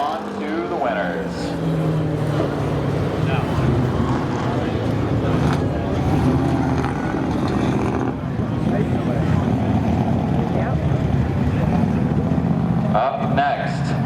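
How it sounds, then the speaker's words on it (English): A 1999 Camaro race car roars down the track at Seekonk Speedway spectator drags, its engine a steady loud rumble, with a lighter burst near the end. "he easily stretches the legs of that beautiful 99 Camaro as he comes off of turn 4"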